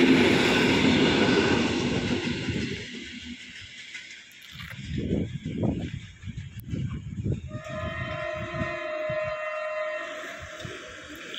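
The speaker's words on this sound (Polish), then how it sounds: "Pociąg służbowy!" A service train passes a railway crossing on Malownicza Street in Łódź: a loud opening blast, then rhythmic bursts of rolling rumble and clatter, with steady ringing tones toward the end.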